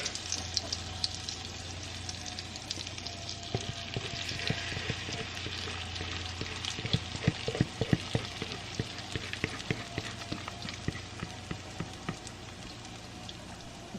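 Butter browning in a pan, a soft steady sizzle with scattered light pops and crackles, fairly faint and alone.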